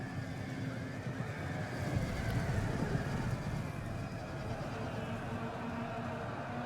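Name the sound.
cavalry horses neighing in video game Total War Rome 2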